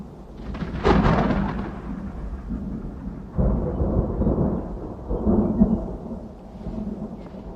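Sudden thunder cracks and rumbles in a stormy scene, a sharp burst near the start followed by two more rolling booms, with a light bed of rain underneath and no talking.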